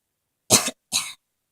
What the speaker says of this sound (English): I think I got the cough too.